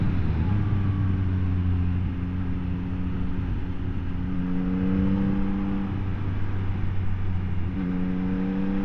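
A 2024 Yamaha XSR900 motorcycle engine drones steadily while being ridden gently, its harmonic tone rising and dipping with throttle changes against constant wind rush, close and fairly loud.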